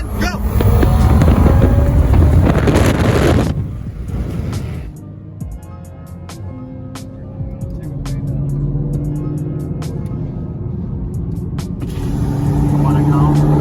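A BMW M340i fitted with a Verus Engineering turbo heat shield accelerates hard while racing a friend's car, engine roaring loud and close with heavy wind buffeting, then easing and building again as voices talk over it.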